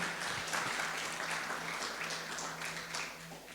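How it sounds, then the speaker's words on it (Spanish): A church congregation applauds strongly for the Lord during a Spanish-language sermon, a steady wash of clapping that holds for a few seconds at moderate level, with a low sustained hum beneath. "Dale un aplauso fuerte al Señor."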